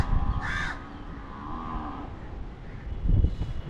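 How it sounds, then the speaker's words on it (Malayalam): A water buffalo near polluted Kerala backwaters lets out low, drawn-out bellows over a rough outdoor background, with a crow cawing sharply once near the start. "പോത്ത് കിടന്ന് അമർന്ന ശബ്ദമൊക്കെ കേൾക്കുന്നു"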